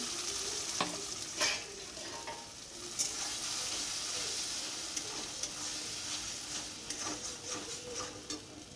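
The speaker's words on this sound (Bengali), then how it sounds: "এবার কড়াইতে তেল দিয়ে এবার দিয়ে দিলাম একটু লবণ তারপরে এই পেস্টটা দিয়ে দেবো তারপর একটু কষিয়ে নেবো" Spice paste fries in oil with a little salt in a wok over a village kitchen fire, giving a continuous sizzle with repeated sharp scraping stirs and clinks at irregular intervals.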